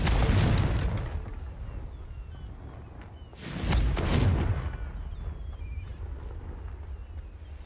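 Confringo blasting spells from Hogwarts Legacy go off twice, an opening blast followed by a louder deep boom midway, each fading into a low rumble amid faint clicking game sounds.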